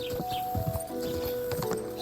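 Horse hooves clip-clopping in a steady trotting rhythm while riding through countryside in Kingdom Come: Deliverance 2, close and clear over a soft outdoor ambience with faint birdsong.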